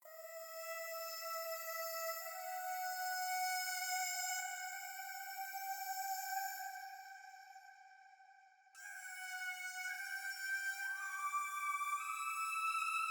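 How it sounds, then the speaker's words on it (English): Ghostly choir vocals from the Arcade plugin in FL Studio hold soft, sustained layered tones that shift pitch in a few clean steps, cutting off abruptly and then resuming, with no other sound around them. "the ghostly choir from Arcade. These are just some really soothing vocals"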